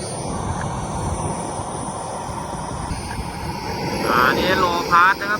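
A small propeller airplane passes low over a small airfield in Ayutthaya, Thailand, its engine drone swelling louder toward the end while someone commentates over it.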